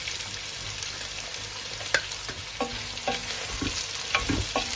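Sliced onions frying with beef tripe in a pan, a steady sizzle under repeated scraping and stirring strokes that come in short bursts, close and moderately loud, with no voices.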